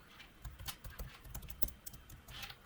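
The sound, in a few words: typing HTML tags on a computer keyboard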